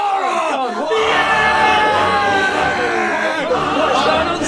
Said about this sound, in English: You're cheering who you normally boo, you boo who you normally cheer.